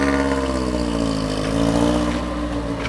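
A Cosworth Vega with about 9,000 miles on it revs loudly and close by, its engine note held high and steady with a slight rise and fall throughout.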